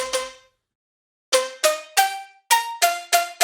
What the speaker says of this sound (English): gave it a very sharp decay, just so it has that front end bite and it has that stabby sound